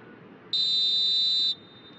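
During a Venezuelan league football match between UCV and Angostura, a referee's whistle sounds one sustained, piercing blast of about a second over a low background murmur.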